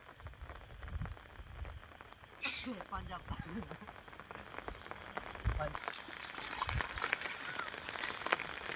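Steady heavy rain patters and hisses across an onion field, with a brief splashy burst and some faint voices partway through.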